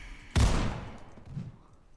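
A single loud shotgun blast in Roblox Criminality cracks out close by, then decays into a ringing tail with a faint second thud.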